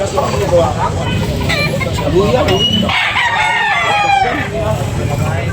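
A rooster crows loudly nearby amid a busy background of other birds and people talking.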